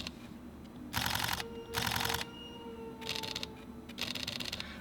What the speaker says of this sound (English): The XH1 has a beautiful shutter.